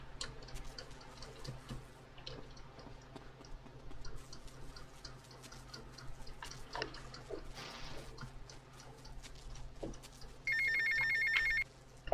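In GTA Vice City, a payphone rings out in short electronic bursts near the end of a quiet stretch of ambient city noise with faint ticks and clicks.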